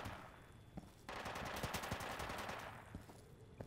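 Gunfire in the video game Insurgency: rapid bursts of automatic fire crack loudly and close, a sustained volley after an opening shot, tapering off within a few seconds, with no talking.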